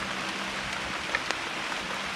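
Rain pattering steadily on leaves and ground in a eucalyptus grove during mushroom gathering, a soft continuous hiss of drops with a couple of sharper taps near the middle.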